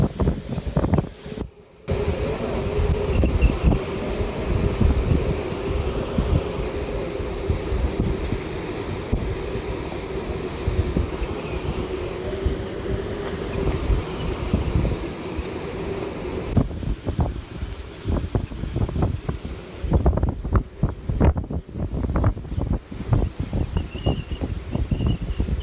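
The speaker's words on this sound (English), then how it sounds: "I'm going to be quiet so you can hear the whistle, the roar now." Strong hurricane wind from Hurricane Harvey roars steadily against the microphone with a faint high whistle, gusting and buffeting throughout, surf-like rumble underneath and no talking.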